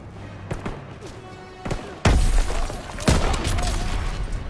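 A grenade explodes in the Call of Duty WW2 campaign mission Stronghold, a heavy booming blast followed by another loud thump amid scattered gunfire and battle noise. Earlier, sharp shots crack at a distance.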